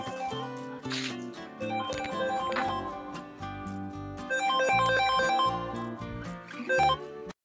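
A phone ringtone plays a loud, continuous melodic tune for the full length of an incoming call, with no talking over it.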